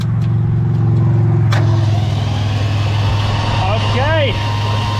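A 1964 Ford N600 flatbed truck that has sat for years cranks over: a loud, steady rhythmic starter churn with a low pulsing hum throughout and a person speaking briefly over it.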